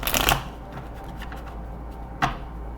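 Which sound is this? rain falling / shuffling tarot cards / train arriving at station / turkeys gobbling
shuffling tarot cards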